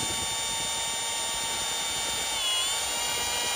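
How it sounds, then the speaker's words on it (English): Wire-wheel or power-tool scrubbing of rust from the mating surface on an old tractor part, a steady loud whirring grind that holds constant for the whole stretch with a slight pitch dip midway, no voices. "This rust is coming right off of this mating surface."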